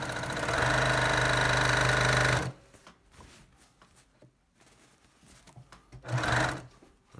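A sewing machine stitching in the ditch on a t-shirt quilt with gray top thread and white bobbin thread: a loud, steady mechanical run for a few seconds, then quiet fabric handling, then a second short burst of stitching.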